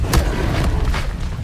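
A Confringo blasting spell goes off in Hogwarts Legacy, a deep booming explosion with a low rumbling thud that lingers briefly at loud volume.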